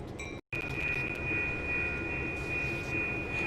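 A train rumbles steadily past a level crossing in Train Sim 2020, its loud continuous roar carrying a high steady tone, briefly cut to silence near the start before resuming.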